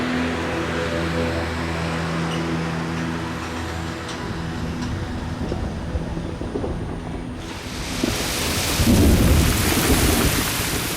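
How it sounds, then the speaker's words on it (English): Heavy, steady cyclonic rain roars throughout in India's Nilgiri hills, with low rumbling thunder beneath, swelling louder and harsher toward the end as the downpour intensifies. "they're bringing the heaviest rain for years"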